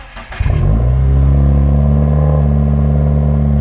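A Subaru WRX engine with the muffler removed starts and settles into a loud, deep, steady idle rumble with a harsh unmuffled growl, close by.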